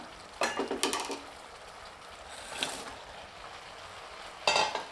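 Fried cauliflower pieces are stirred into a pan with green chillies for Cauliflower Manchurian: a few close clattering scrapes of a spatula against the pan, coming in short bursts over a soft background sizzle.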